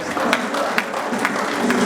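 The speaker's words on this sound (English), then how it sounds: "Give me a round of applause." Audience applause at a Lagos event, steady broadband clapping from a crowd lasting throughout, with a few sharper individual claps standing out.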